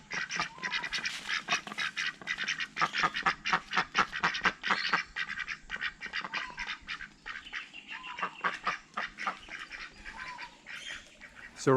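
Ducks on a farm in Australia's Atherton Tablelands, kept alongside chickens and guinea fowl, give a loud, continuous run of quacks and honks close by, with no voices over them.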